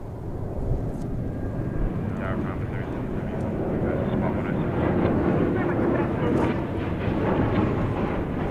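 Fixed-wing airplane flying near the runway at Dallas/Fort Worth (DFW) Airport, a loud, steady engine roar sustained throughout, with faint talk underneath.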